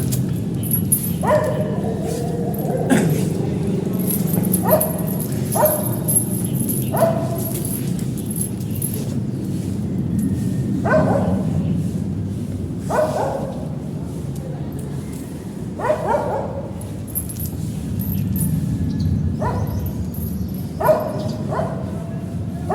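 Two dogs playing together bark and yip in scattered bursts, some sharp and close, over a low steady background hum, with occasional whimpers between.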